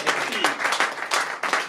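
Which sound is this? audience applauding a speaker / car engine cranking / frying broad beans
audience applauding a speaker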